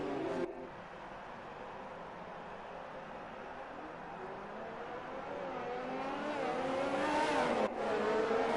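Race cars from the F1 2019 video game at the Brazil round on a damp track, a steady blended engine drone of several cars that swells louder toward the end, with a brief cut near the start.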